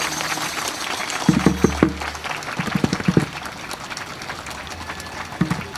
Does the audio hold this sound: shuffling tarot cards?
no